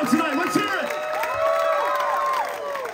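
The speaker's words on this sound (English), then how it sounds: "give yourselves a huge fucking round of applause for showing up" A loud crowd at a sold-out metal concert in Orlando, Florida cheers and whoops, with shrill voices rising and falling over a dense wash of noise.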